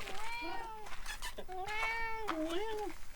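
A cat meows several times in drawn-out, rising and falling cries, close by, with soft background noise between calls.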